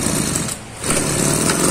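A two-stroke backpack sprayer engine runs close by with a loud, buzzing rattle that dips briefly in intensity before picking back up to a steady drone.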